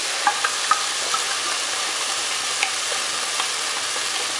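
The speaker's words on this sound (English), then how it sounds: "I'm now going to add in the cream of broccoli soup" Cream of broccoli soup stirred into a pan of tender cooked carrots for a tuna casserole, a loud steady hiss and sizzle with a few light scrapes of a spoon early on, no voices.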